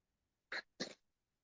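Two quick sneezes in a row close up, each a sharp burst with a short gap between them, in a quiet restaurant kitchen.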